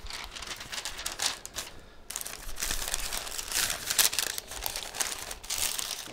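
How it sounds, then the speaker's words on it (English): Stiff butcher paper crinkles and rustles continuously as a smoked brisket is wrapped, loud and close, with brief pauses between folds. "I'm gonna go ahead and wrap in some butcher paper"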